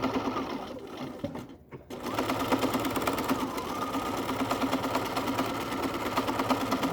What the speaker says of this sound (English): you're going to sew and back stitch over that, because you want to make sure that elastic is secure